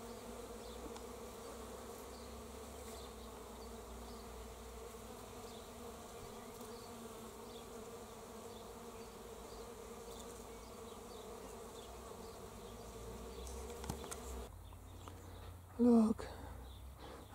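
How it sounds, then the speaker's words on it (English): Many bees hum in a blossoming carob tree in a steady, buzzing drone for a long stretch, then the sound shifts near the end with a short louder burst. "Bees are humming in the carob tree,"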